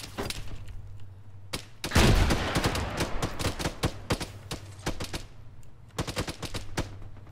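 Gunfire fills a military video game battle, with rapid bursts of automatic fire and a heavy blast near the two-second mark. Bursts continue intermittently throughout, loud and close, with no speech.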